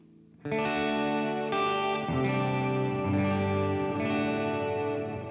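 An electric guitar plays sustained chords drenched in heavy reverb, the notes washing together into a dense, continuous shimmer with no pauses.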